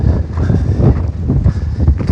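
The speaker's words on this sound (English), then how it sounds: "You can hear that wind's picked up" Steady wind roars across the microphone during a drive on a country road near Penola, with a continuous low, buffeting rumble and no talk.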